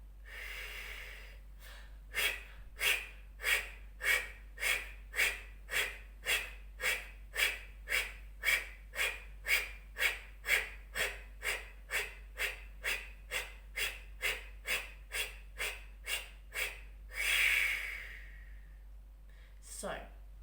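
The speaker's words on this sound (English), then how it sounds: "I'm going to exhale the breath." Rapid rhythmic breathwork exhalations, roughly thirty short forceful puffs in steady succession from a man sitting with hands resting on his thighs, ending in one longer breath, close and clear.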